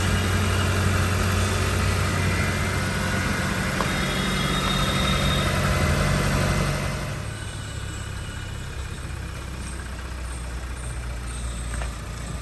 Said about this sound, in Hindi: जैसे इसकी आइडलिंग होती है, RPM अपने नीचे आ जाता है तो इंजन की आवाज़ एकदम ना के बराबर हो जाती है